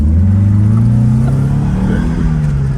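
A Porsche 944 engine pulls under acceleration, a loud continuous drone heard from inside the car, its pitch climbing steadily with no talking.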